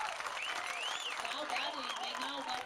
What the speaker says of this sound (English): Gives this crowd a little bit to cheer about